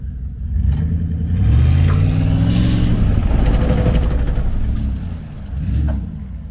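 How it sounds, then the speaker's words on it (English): A van stuck in the desert revs its engine while backing out in reverse, a loud close rumbling drone that rises and falls in pitch, easing off near the end. "Now just give a little bit of throttle in reverse as I go."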